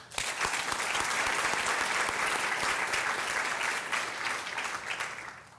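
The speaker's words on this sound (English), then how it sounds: "Let's give a round of applause for all of our sponsors." An audience claps at a nursing college white coat ceremony, a dense, even round of applause that holds steady and then fades slightly at the close, with no voices over it.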